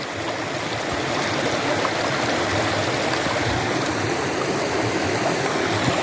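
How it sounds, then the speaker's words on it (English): A small creek runs with a continuous, close, rushing babble of water, steady throughout and with no talking. "by this little not so dry creek to look for different types of jade"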